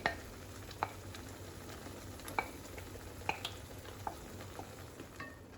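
A spoon stirs leftover marinade masala into a sizzling pan for restaurant-style paneer tikka masala, with scattered clicks and scrapes over a steady frying hiss.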